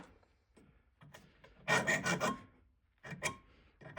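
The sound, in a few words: filing a metal spoon ring to remove burrs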